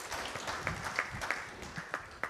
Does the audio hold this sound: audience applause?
yes